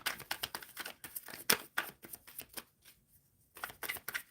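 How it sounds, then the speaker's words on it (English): Tarot cards are shuffled by hand in quick crisp riffles and soft slaps, coming in bursts with a brief pause partway, close up and quiet, with no voices. "What I'm shuffling for Aurora."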